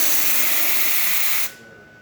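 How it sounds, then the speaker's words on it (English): The steam wand of a Rocket Appartamento espresso machine hisses loudly and steadily, close up, then cuts off abruptly, leaving a faint residual hiss. "steam's working"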